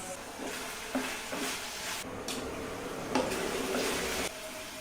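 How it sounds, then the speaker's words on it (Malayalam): Spices being stirred in a cooking pan, with a steady sizzle of frying under repeated scraping strokes of a spoon, close and clear. "ഇതൊക്കെ ഒന്ന് ഇളക്കി കൊടുക്കണം"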